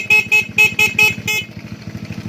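A repaired motorcycle horn sounds in five short, loud honks in an even rhythm, over a steady low engine idle that carries on alone after the honking stops.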